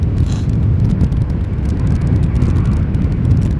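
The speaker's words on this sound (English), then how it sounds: "Now here is a Ryanair 737. I think it was outbound to Dublin." A Ryanair Boeing 737 airliner departing Schiphol Airport, outbound to Dublin, gives a steady, loud broadband roar with wind buffeting the microphone throughout.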